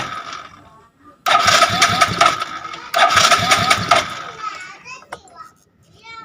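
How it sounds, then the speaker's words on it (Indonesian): An automatic scooter with a suspected ECU fault is cranked with its electric starter in two loud, close bursts of whirring and sputtering, separated by a short pause and followed by quieter clicks. "Lalu kita cek di bagian injektor, lalu kita kontak dan coba starter ya lur."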